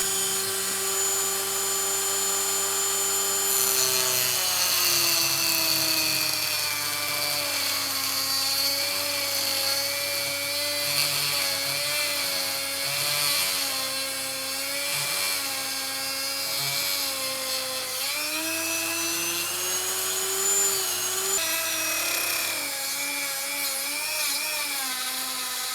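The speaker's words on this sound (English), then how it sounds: "we're gonna have to make a mess with the Dremel" A Dremel rotary tool cuts through a PCB connector during work on a Commodore 64 test harness. It gives a loud, steady high-pitched whine that shifts in pitch as the load changes, and it runs without a break for the whole clip.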